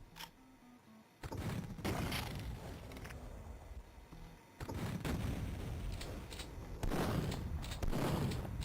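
Rocket launcher fire and explosions in the game Duke Nukem 3D, heavy booming blasts and rumbling gunfire in loud overlapping bursts that pile up into dense, sustained explosive noise.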